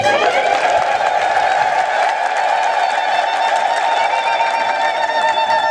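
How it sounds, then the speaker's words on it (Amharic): A church congregation ululating together during an Ethiopian Orthodox sermon, a loud, sustained, high trilling chorus of many voices that holds steady without pause. "እልል በሉ"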